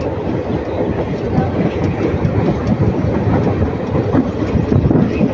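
A train on the Dharmapuri to Salem forest route in South India rolls past close by, a loud steady rumble with continuous clickety-clack of wheels over rail joints throughout.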